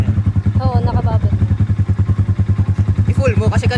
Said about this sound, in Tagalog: hindi ka umaandar pero humihina yung tunog ng makina